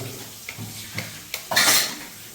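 A few light clinks of dishes and utensils being washed, then a brief gush of running water, close by and quiet.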